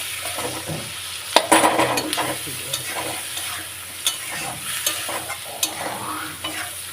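Prawns hit a hot pan and fry with a close sizzle, broken by a loud clatter of a utensil against the pan and several sharp scrapes and taps as they are stirred.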